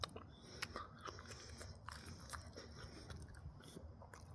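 Crispy seasoned Applebee's fries are chewed close to the mic, with repeated sharp crunches and bites in an uneven rhythm, fairly quiet and with no talk.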